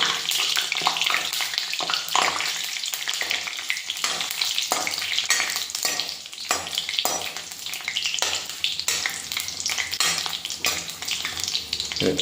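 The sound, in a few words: frying chillies in coconut oil while stirring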